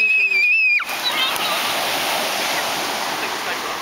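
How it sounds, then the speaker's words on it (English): Ocean waves break on a beach, a loud, close rush of surf that swells in suddenly after a short opening and then keeps washing steadily. "Okay, here come the waves."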